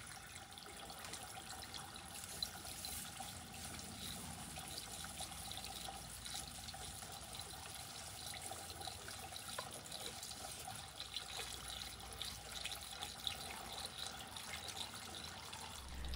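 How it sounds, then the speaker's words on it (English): A running water hose pours into a 4-inch return line pipe of a hydroponic greenhouse, making a steady, continuous rushing and trickling wash that stays even throughout with no talking. "I got my water hose going and the rope is just floating on down."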